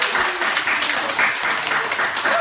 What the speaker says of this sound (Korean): 또 한번 박수와 올려드리겠습니다